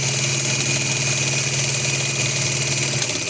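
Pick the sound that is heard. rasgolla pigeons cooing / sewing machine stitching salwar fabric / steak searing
sewing machine stitching salwar fabric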